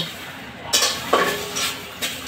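A bay leaf heating in a pan, a faint sizzle broken by a few sharp scraping stirs of a spoon against the metal, close and brief.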